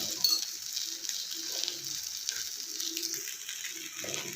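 Groundnut dosa (talipattu) sizzling on a hot pan as a little oil is added on top, a steady crackling hiss with faint scraping clicks, close and continuous without speech.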